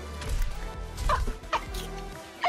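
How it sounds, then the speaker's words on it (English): Cartoonish chicken clucking from a chicken emote in the Fortnite video game, a series of short, close, bouncy clucks and squawks in quick succession with brief gaps between them. "You're doing a chicken emote."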